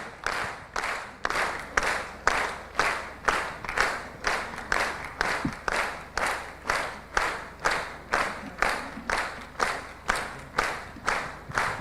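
A student quiz competition audience claps for the contestants, with steady rhythmic applause in regular pulsing bursts that fill the hall throughout, with no talk over it.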